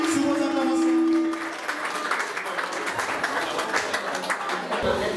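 An audience applauds at an evening dinner reception, a sustained wash of clapping that rises after a held musical tone fades in the first second and a half, continuing steadily to the end.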